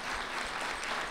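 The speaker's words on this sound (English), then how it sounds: "Give yourselves a round of applause." Audience applauding an auditor's office speaker at a community gathering, a steady dense patter of many hands clapping throughout, fairly faint and distant with no talk over it.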